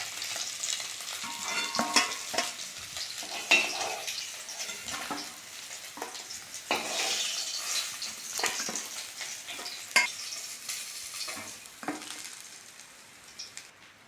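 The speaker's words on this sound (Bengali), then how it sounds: "মাছ ভাজা হয়ে গেছে, তেল থেকে তুলে নেব।" Lilentika fish frying in oil gives a steady, close sizzle with scattered crackles and pops throughout, with occasional stirring and no talk.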